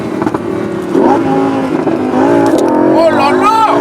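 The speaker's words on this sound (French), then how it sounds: "Là, je passe les vitesses 5e, 6e, on rétrograde 5e." A Lamborghini Huracan Spyder's V10 engine revs and climbs through upshifts and a downshift, pitch rising and falling in strong harmonic sweeps, loud and close inside the car, with a voice talking over it.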